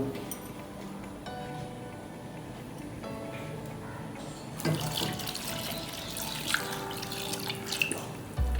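Water poured into a cooking pot for Kanchipuram-style paruppu kulambu, a lentil curry with ground ginger and garlic: a soft continuous stream that turns louder and splashier halfway through, with a few drips and clinks, heard alone.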